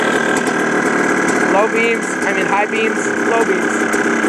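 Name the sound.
2002 Yamaha Blaster ATV engine idling while warming up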